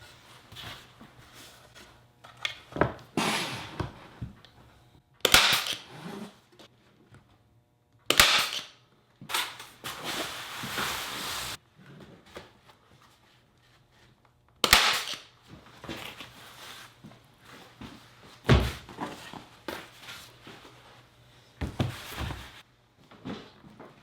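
Pneumatic staple gun driving staples into canvas being stretched, several loud, sharp bangs spaced a few seconds apart, each followed by brief handling noises, close by and without talk.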